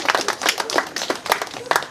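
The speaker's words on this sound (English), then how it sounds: "Clap it up for yourselves," A short burst of audience clapping and applause at a comedy club, a crowd of hands patting rapidly and steadily, fairly close and lively throughout.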